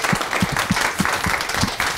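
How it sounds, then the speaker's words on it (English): An audience claps after an academic lecture on intellectual property at a law school speaker series, a dense, even round of applause close to the microphone with no voices over it. "So a big round of applause."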